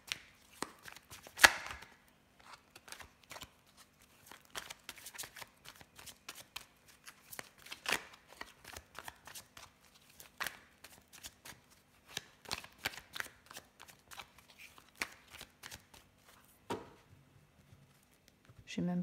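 Tarot cards are shuffled by hand in a series of quick, crisp riffling and slapping bursts, close and fairly quiet, with brief pauses between handfuls.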